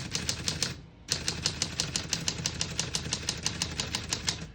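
Typing on a 1946 Smith-Corona Sterling portable typewriter: a rapid, even run of crisp key strikes, close and clear, with a brief pause near the start before the steady clacking resumes.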